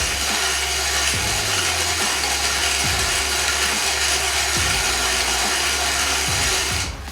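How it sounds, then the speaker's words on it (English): A Rok GC hand-cranked manual coffee grinder crushes beans in a continuous gritty, crunching grind, loud and close, with a slight rhythmic pulse from each turn of the handle and no talking. "So I'll kind of start grinding."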